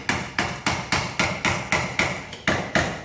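Eleven steady hammer blows strike a car body panel near the lower B-pillar of an XC coupe during rust repair, each a sharp, close metallic clang with a short ringing decay.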